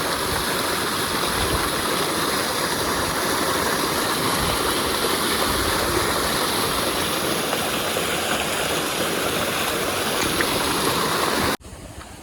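Water from a motor pump gushes into a field channel, a loud steady rushing wash with a low engine-like drone underneath that continues without a break until it suddenly cuts off at the end.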